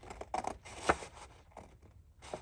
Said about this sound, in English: I just have to cut this. So we're just cutting 2 of those out.